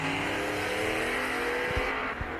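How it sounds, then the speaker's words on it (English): A Mustang and a Malibu launch off the line at a drag strip, with loud, close, revving engine noise and a couple of brief low thumps near the end. "Sounds like the Mustang had a little bit of trouble getting off the line."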